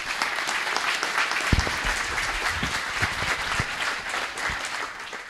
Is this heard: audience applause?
yes